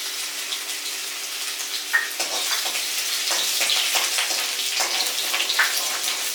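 Ginger frying in hot oil with mustard seeds for a riceflake and cucumber breakfast, a steady broadband sizzle with small popping crackles throughout, close and fairly loud, no talking.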